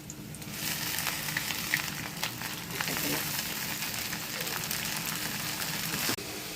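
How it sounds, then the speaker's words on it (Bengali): Chilies and leafy greens frying in a pan on a home stove, a continuous close sizzle of hot oil with faint stirring scrapes and a sharp clack near the end. "এবার আমি মরিচটা ছেড়ে দেব আর শাকটা"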